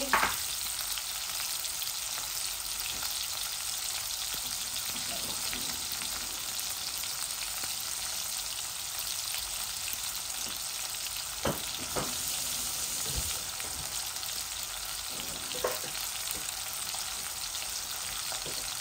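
Jackfruit seeds and onions frying in a pan, a steady loud sizzle with occasional clicks and scrapes from stirring, continuous and close with no talking.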